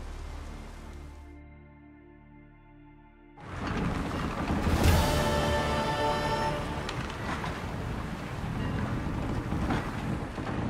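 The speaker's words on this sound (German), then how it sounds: "Höchste Zeit, dass wir Segel setzen." Sailing ship at sea in The Witcher 3: Wild Hunt, a steady loud rush of wind and water against the hull that swells in after a quieter opening and holds broad and continuous to the end, with no talk.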